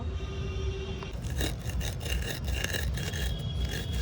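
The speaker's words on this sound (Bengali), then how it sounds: "এগুলো আমার ভাজা হয়ে গিয়েছে তুলে নিলাম এবার আমি গুঁড়ো করে নিব" A steady, close rasping grind runs throughout, rough and rhythmic, as dry-roasted whole spices for duck curry are crushed and rubbed fine, with no voices.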